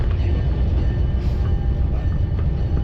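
A light Leadville railroad train rolls downhill in the Rockies on dynamic braking, a steady loud low rumble with a faint high whine and occasional clicks, close by and without talk.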